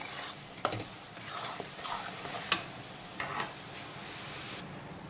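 Green chicken curry spice paste being stirred and fried in a pan, with soft scraping strokes, a few sharp utensil clicks and a steady low sizzle throughout.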